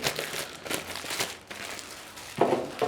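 Plastic wrapping on a sewing machine stand being cut and pulled away, giving soft crinkling and rustling in short bursts, with a couple of sharper crackles near the end, close by with no talking.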